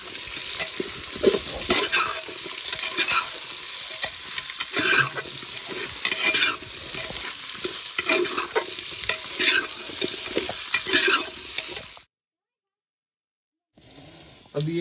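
Spices, meat and lotus stem frying together in a pan for a Kashmiri meat dish, a loud continuous sizzle with frequent stirring scrapes, cutting out into near silence before briefly returning.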